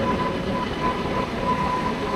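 Steady, loud rumble of a passenger train near Peddapalli Junction in India, an unbroken low roar heard from on board with no distinct clatter, and no one speaking.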